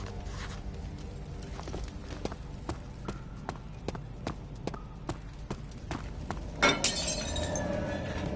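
A glass bottle is thrown and shatters in the video game Amnesia: The Dark Descent, after a string of sharp, evenly spaced clicks like footsteps, ending in a loud, bright crash.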